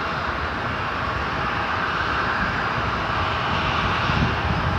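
An airliner powers up for takeoff on runway 34 right at Seattle-Tacoma International Airport, a broad continuous roar of engines heard from a distance, steady and unbroken without voices.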